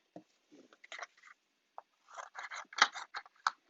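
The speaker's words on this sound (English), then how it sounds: "I've got a piece of So Saffron cardstock, and I do need to trim it just a little bit" So Saffron cardstock being cut on a paper trimmer, a series of short, close scraping and slicing strokes in uneven bursts in a quiet room.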